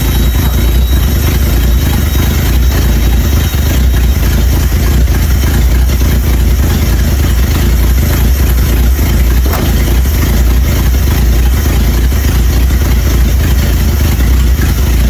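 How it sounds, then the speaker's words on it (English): A 1978 Dodge D150 pickup truck engine, long neglected after sitting for twenty years, runs loud and close in neutral, a continuous rough engine roar held for the whole stretch with no clear separate rev peaks. "trying to roll forward in neutral when I rev it up."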